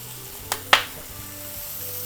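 A whole salted onion searing over medium-high heat in a frying pan for arrabbiata pasta, a steady soft sizzle broken by two quick sharp sputters early on.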